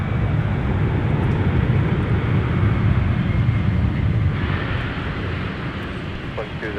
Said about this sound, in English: The touchdown from Delta 2206 arriving with the 757-300.